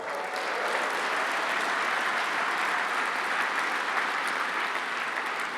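Steady, dense applause from an awards ceremony audience fills the whole stretch at an even level, a continuous wash of clapping with no voices rising above it.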